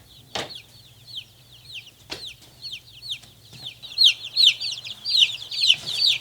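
Chickens cluck around a farm chicken coop, with a rapid run of short repeated calls that grows louder and busier toward the end, plus a few sharp higher squawks.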